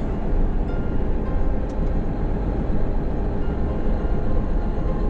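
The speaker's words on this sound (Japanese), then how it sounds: "あそこになんかコンテナかなんかの電車が走ってますね。" A freight container train runs past in the distance, heard as a steady, continuous low rumble and rolling noise throughout, with no speech.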